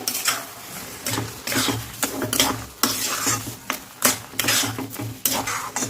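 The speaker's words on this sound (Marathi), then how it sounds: "साखर टाकून पण आपण याच्यात मस्त मिक्स करून घेऊ" Sugar is stirred into a thick coconut burfi mixture in a pan, producing rhythmic scraping and clattering strokes of a spoon against metal, close and fairly loud.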